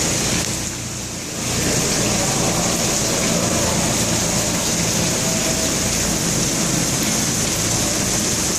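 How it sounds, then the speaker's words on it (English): Rainwater pours inside a subway station, a dense, constant roaring splash that fills the space, loud and unbroken apart from a brief dip near the start. "It is raining inside of the subway."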